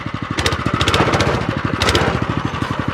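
Homemade mini tractor powered by a stationary engine fitted with reverse gear, loud and close, a fast steady chugging putter with regular exhaust pulses and clanking, no voices over it.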